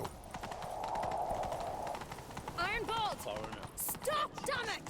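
Horse galloping in the video game The Witcher 3, rapid rhythmic hoofbeats pounding over rumbling in-game action, while excited voices shout over the galloping.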